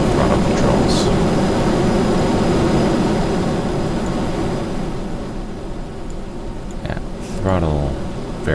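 A rocket engine launching in Kerbal Space Program roars with a loud, continuous, rumbling thrust that eases slightly midway and swells again near the end, where a brief voice breaks in.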